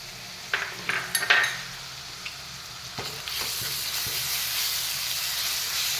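Ginger garlic paste sizzles steadily in a hot pan for chicken curry, a few clinks and stirring knocks early on, then a continuous loud frying hiss with no talk.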